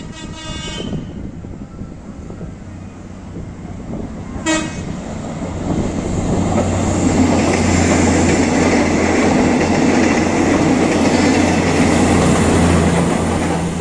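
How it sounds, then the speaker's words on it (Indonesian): A feeder passenger train, running between Bandung, Cimahi and Padalarang, sounds a horn blast early on and then rolls past loudly on track 5 of a station, with a steady rumble and rail noise building and holding to the end. "sekarang melintas kereta api feeder di jalur 5 menuju tujuan akhir stasiun Padalarang"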